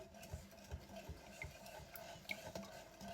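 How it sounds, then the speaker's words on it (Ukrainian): Whisk stirring batter in a bowl, faint quick rhythmic scraping and tapping against the sides, steady and close with no talk. "Перемішуємо вінчиком."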